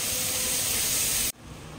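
A pan of spice masala with turmeric, coriander and cumin powders sizzles and simmers on the stove in a loud, steady hiss. The hiss cuts off abruptly after about a second, leaving only a quieter background.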